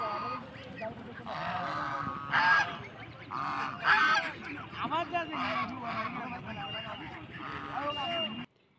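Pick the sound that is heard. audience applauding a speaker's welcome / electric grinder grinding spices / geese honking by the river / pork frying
geese honking by the river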